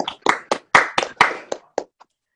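A small group claps at the close of a virtual reality lecture, about nine distinct, loose claps over two seconds, near and fairly loud, thinning out toward the end with no talk.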